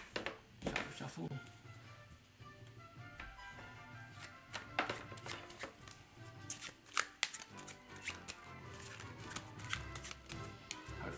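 A deck of playing cards is shuffled during a tabletop card game, with riffling and tapping sounds close up over a continuous background of people talking.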